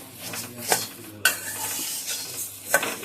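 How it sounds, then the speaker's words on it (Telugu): Coriander seeds dry-roast in a pan over a low flame, a soft rustle broken by three sharp scrapes of a spoon stirring them. "అది సిమ్లో ఒక 5 మినిట్స్ వేయించుకొని"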